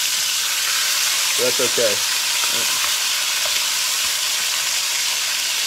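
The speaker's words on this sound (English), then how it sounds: "Showing everybody how to sear some chicken." Seasoned chicken sears in a hot pan, giving a loud, continuous, dense sizzle; someone talks briefly over it near the start.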